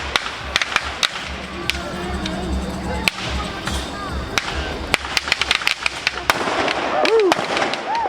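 Mortar shells packed into an iron pour at a historic furnace site burst and crackle: many sharp, loud pops and bangs scattered irregularly over several seconds, with people talking and exclaiming around them.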